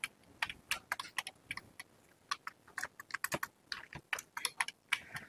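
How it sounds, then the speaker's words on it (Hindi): Keys clatter on a computer keyboard as an Aadhaar number is entered, bursts of quick close taps with short pauses between them, no voices. "आधार नंबर मैंने टाइप कर दिया।"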